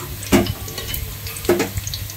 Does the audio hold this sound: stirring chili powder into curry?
yes